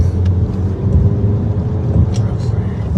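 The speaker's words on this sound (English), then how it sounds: "That's traffic." Road traffic on a busy hometown highway rolls past as a continuous, loud, low rumble of cars, with faint passing swells and no voices on top.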